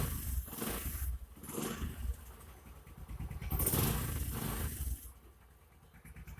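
Motorcycle engine revved several times while tuning the fuel screw, rising sharply to a loud peak and dropping back to idle quickly, close by, with one longer rev in the middle.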